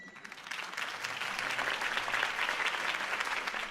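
Crowd applause for a campaign speech by Harvey Dent in a Batman series, a steady full wash of many hands clapping that swells slightly and holds throughout.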